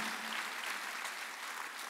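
Applause from a church congregation during a sermon, a dense, steady patter of clapping that holds at an even level throughout.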